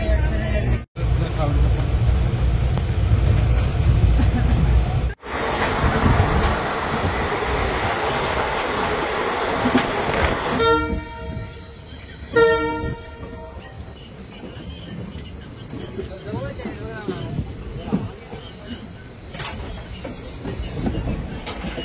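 A passenger train on the Secunderabad to Somnath route rumbles steadily, with broadband rolling noise, sharp clanks and brief metallic rattles partway through, with voices talking over it.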